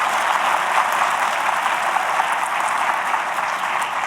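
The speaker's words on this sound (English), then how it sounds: "Please give our staff a big round of applause." Audience at a Martin Luther King Jr. commemorative ceremony giving sustained applause for Cleveland Public Library staff, a dense, even roar of many hands clapping without pause.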